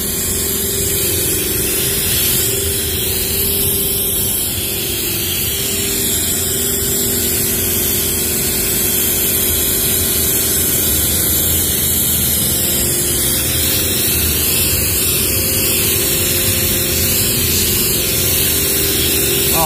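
A foam sprayer coats a tractor and blows it off, with a constant loud hiss of spray over a steady pump or engine drone throughout and no talk.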